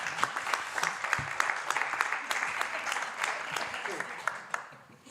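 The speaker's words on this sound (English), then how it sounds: "Big applause for her." A crowd at a business launch event applauds steadily for several seconds, a dense, even clapping that tapers off toward the end.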